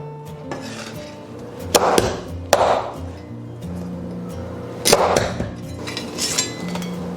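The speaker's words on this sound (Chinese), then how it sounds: "我们先把大拇指卸下来，然后刀背给它敲碎一点，给它入味" Back of a knife cracking crab claws for a crab and winter melon soup: a few sharp, loud cracks spaced apart, over a steady background hum.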